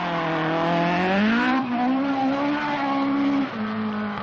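A 1976 rally car climbing a hill stage at the Scottish Rally, its engine loud and close, revving high and holding a strained note, with a brief dip near the end before pulling on.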